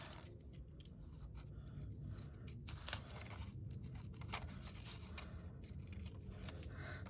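Scissors cut a small paper butterfly out of a vintage book page up close, with quiet, continuous snipping and rustling of paper and no talking.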